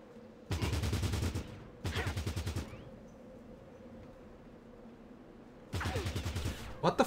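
Enemy gunfire in the video game Fallout Tactics: three loud rapid bursts, one at the start, a second right after it, then a longer one following several seconds of quiet ambient background.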